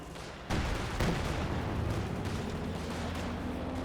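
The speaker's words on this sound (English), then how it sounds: "Brumbar gets a hit on the sandbags." In the Company of Heroes video game, a Brumbar assault gun shell strikes sandbags, and a sudden loud boom rises out of a constant roar of battle noise, followed by a dense rumbling wash of gunfire and explosions.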